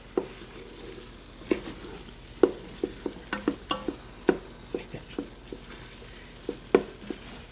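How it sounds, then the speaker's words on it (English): Ham pasta in a light cream sauce with grated Parmesan stirred in a pot, a spoon scraping and clinking in a steady series of soft close taps over a faint background hiss, with no talking. "I'm going to give that a nice stir."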